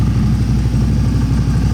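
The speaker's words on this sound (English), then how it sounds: "Letting the engine warm up. I'm gonna have to roll the drum for a little bit, get everything nice and warm." A CFMOTO CFORCE 1000 engine warms up while turning a dyno drum, giving a loud, steady low drone with an even pulsing rhythm and no pauses across the short stretch.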